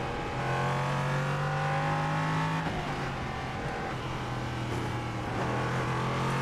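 A race car engine in a racing video game, running on cold tyres, revs high and steady with rising pitch, dropping briefly at gear shifts before climbing again, loud and close with no talking.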